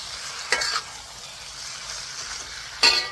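Shrimp pad thai sautéing in a pan gives a soft, steady sizzle, broken by two brief scraping stirs, one near the start and one near the end.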